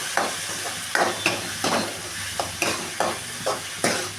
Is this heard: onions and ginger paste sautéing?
yes